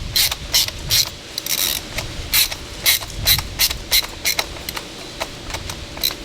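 Screws are driven into a threaded plastic light kit cover on a Hustler Raptor mower, a close, rapid clicking ratchet sound in quick irregular bursts, no speech.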